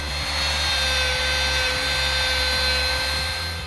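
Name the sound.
router cutting hinge recesses in wood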